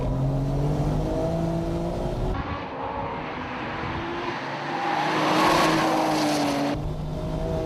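A Porsche 996 Turbo racing on a track, its engine droning and shifting pitch as it accelerates and changes gear, loud and sustained with a brief swell of wind rush in the middle.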